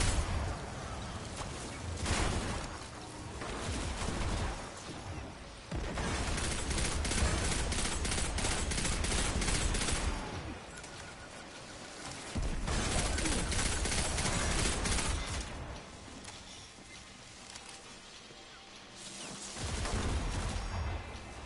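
Scout rifle fire in a first-person shooter video game, with sustained bursts of rapid shots layered into dense fusillades, loud and close, alternating with quieter gaps across the stretch.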